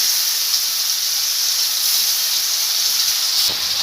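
Onion paste hits hot oil in a pan while a Bengali katla fish curry is cooked, giving a loud, steady, bright hissing sizzle that runs unbroken throughout with only a brief flicker near the end.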